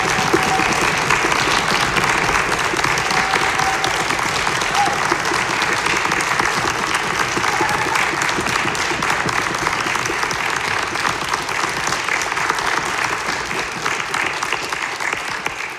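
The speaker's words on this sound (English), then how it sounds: "Let's give them all one more round of applause." Sustained audience applause fills a concert hall after a senior honors orchestra recital, a dense steady wash of clapping from a large crowd that holds at full strength throughout.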